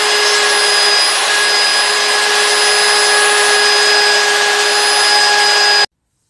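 A wood router, lowered and raised a few millimetres at a time, cuts a small tribal mask, giving a loud, steady high-pitched whine with a constant tone that runs unbroken for about six seconds before stopping abruptly.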